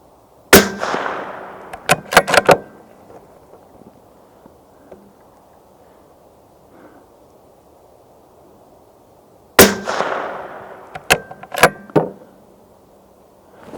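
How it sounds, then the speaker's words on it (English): Tikka T3X TAC A1 bolt-action rifle in 6.5 Creedmoor firing at an outdoor range: two loud, sharp reports about nine seconds apart, each followed by a few quick metallic clicks and clacks. "I've just shot 25 rounds of ammo there in less than 5 minutes."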